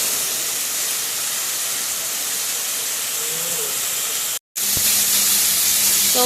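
Garlic and chillies frying in a pan give a steady, loud, hissing sizzle that runs unbroken, drops out for a split second, then carries on just as strongly.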